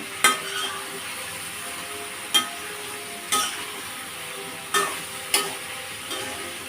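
Spices fry in a pan under a steady low sizzle, while a utensil stirs and scrapes against the pan in five or six sharp, separate knocks.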